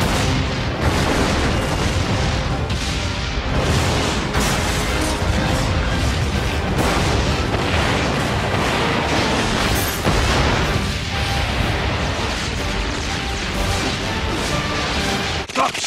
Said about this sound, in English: Gotham City exploding.